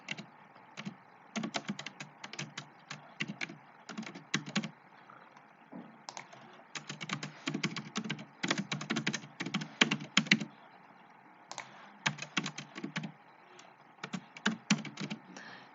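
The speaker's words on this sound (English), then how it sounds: "I'm gonna type my certificates." Computer keyboard typing in bursts of rapid, close keystrokes separated by short pauses, steady and moderately quiet with no voices.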